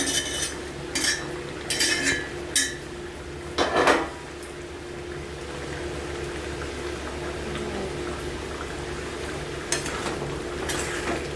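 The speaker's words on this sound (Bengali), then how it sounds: "জলটা যখন খুব সুন্দর করে ফুটে এসেছে তখন আমি পনিরগুলো দিয়ে দিলাম।" Paneer going into boiling water in a pot for vegetarian matar paneer: a few sharp clinks of utensils against the pot, then steady close bubbling and light stirring.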